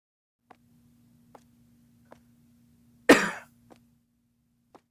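A single loud, harsh cough from one person bursts out once in a quiet room, with a steady low hum and faint ticking clicks before and after it.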